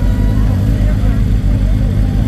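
A Suzuki GSX-R L7 and a BMW S1000RR idle loudly together on the start line at a motorcycle drag race, a steady throbbing engine rumble close by with no break.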